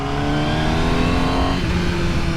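A 2020 Honda Fireblade motorcycle engine revs hard and loud while overtaking a bus, a close, continuous roar whose pitch shifts partway through as the throttle changes.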